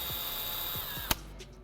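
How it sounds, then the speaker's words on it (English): Battery-powered drill with a 3/16 bit boring a pre-drilled hole for a rivet on a C8 Corvette Stingray Z06 canard, a steady close whine ending in a sharp click. "So step one is my drill. I've got a 3/16 drill bit on it and my new rivet. And basically I just drill a hole"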